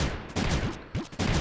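Cannons in the Creeper World 3 strategy game fire in a quick series of sharp, punchy shots, several bursts clustered over about a second, close and fairly loud with no talk.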